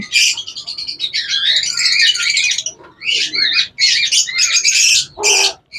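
Caged birds offered for sale squawk and chirp from inside a box, several loud, close, harsh bursts broken by short pauses, with no talking.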